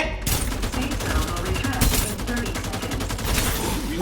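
Video game gunfire in a Thai multiplayer match, rapid continuous bursts of automatic shots, loud and close, with voices talking over them.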